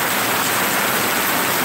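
Heavy pouring rain during a flooding downpour, a steady dense wash of noise with no pauses, close and fairly loud throughout the short stretch.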